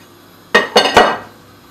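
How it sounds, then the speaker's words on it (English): Spoon knocking and scraping in a pan while beef mince is stirred and broken up for lasagna, three loud close clanks in quick succession, then quiet. "Now we just need to get that mixed in, breaking up the mince as you go"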